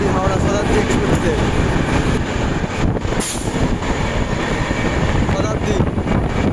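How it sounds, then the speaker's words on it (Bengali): Howrah–New Jalpaiguri Shatabdi Express thunders past on the adjacent track, a loud close rumble of wheels and carriages with a sharp hiss and brief squeal midway, heard from aboard the Uttar Banga Express. "এবার আমাদের ট্রেনের সাথে ক্রসিং হবে নিউ জলপাইগুড়ি হাওড়া শতাব্দী এক্সপ্রেসে।"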